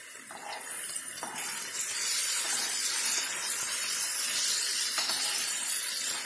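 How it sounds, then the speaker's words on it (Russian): Steady hissing sizzle of pork fat (salo) frying in a pan, continuous and fairly loud, with faint crackles and light clinks throughout. "сковородка уже шкварчит. Сейчас обжариваем сало."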